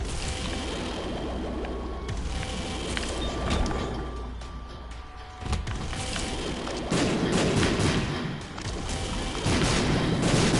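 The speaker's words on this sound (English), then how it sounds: "I'm immune to explosions." Explosions in The Binding of Isaac, a run of repeated booming blasts and thuds over a continuous game soundtrack, several loud bursts clustered toward the end.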